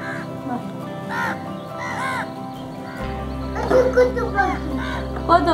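Crows caw repeatedly outdoors, several harsh calls overlapping at mid distance, while a dog barks and people talk nearby under a low steady hum.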